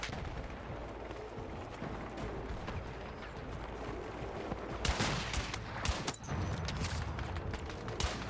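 Gunfire from the Battlefield 6 video game rattles through a busy battlefield mix, with a cluster of sharp shots around the middle and more scattered bursts toward the end over continuous background noise.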